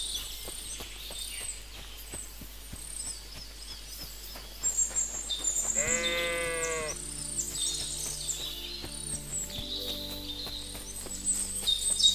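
Sheep bleating in Kingdom Come Deliverance II video game, one clear drawn-out bleat midway with fainter calls after it, over a quiet outdoor bed of chirping birds.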